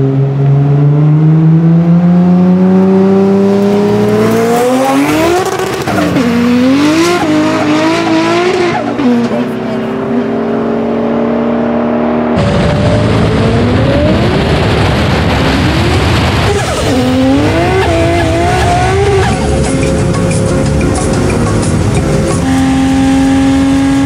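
An 850hp 2JZ-swapped NASCAR and a 490hp C8 Corvette accelerate hard in a no-prep roll race, loud engines climbing through gear shifts with rising pitch sweeps, close and continuous, with a brief tire squeal.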